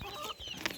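A mother hen on a farm gives a few close, soft clucks amid faint background sounds of other chickens.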